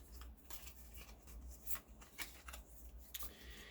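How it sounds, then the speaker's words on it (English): Magic trading cards are shuffled in a series of soft papery riffles and flicks, several quick bursts in an irregular rhythm, close but quiet over a low background hum, with no talking. "so let's get a real good shuffle this time"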